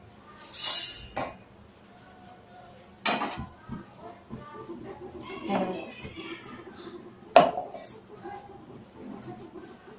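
Roasted spices for egg pulusu masala tipped into a mixer jar, heard as a few sharp clinks and rattles of seeds and a spoon against the jar, with a quiet kitchen background between the knocks.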